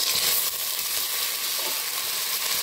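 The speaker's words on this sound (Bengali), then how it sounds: "এবার আমি দিয়ে দেবো আদা রসুনের পেস্ট।" Ginger-garlic paste frying with browned onions in a pan for chicken dalcha, a steady close hissing sizzle with no talk.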